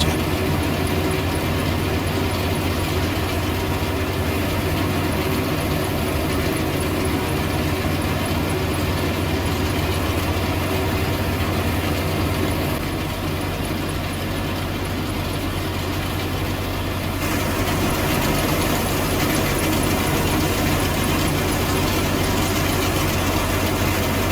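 Ursus tractor engine idling near a combine harvester in a harvest field, a steady loud low rumble with constant mechanical drone throughout and no speech.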